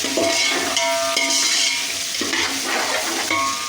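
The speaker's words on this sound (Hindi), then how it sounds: "अदरक लहसुन को फ्राई करेंगे" Ginger and garlic frying in a pot for beef keema pulao, a dense, loud sizzle with wet bubbling and occasional scrapes of a spoon against the metal, no voices.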